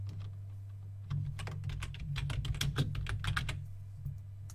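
Keys clatter on a computer keyboard in a quick, uneven burst of keystrokes as an axis title goes into a spreadsheet chart, close and clear over a constant low electrical hum. Quieter pauses come before and after the burst.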